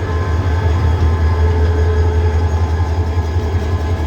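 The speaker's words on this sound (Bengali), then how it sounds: "ওই তো ট্রেন যাচ্ছে উল্টা দিকে" A train running past, loud and close, with a steady low rumble of rail cars and wheels holding constant throughout, no voices over it.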